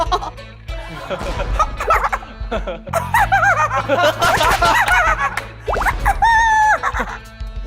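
A voice imitates a happy chicken with bursts of rapid, warbling clucks and gobbling chuckles, loud and close, broken by short pauses.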